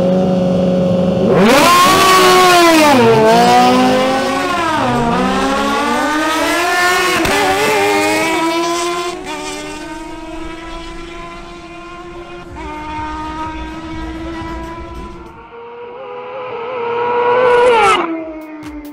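At a drag race, a Honda CBR1000RR and a Kawasaki ZH2 launch and scream away. Loud engine pitches climb and drop through rapid gear shifts, then fade as the bikes pull off into the distance, ending with a final brief surge.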